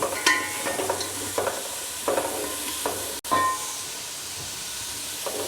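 Onions fry for biryani in a pan, a steady hiss and sizzle broken by repeated scraping stirs, with one brief cut near the middle.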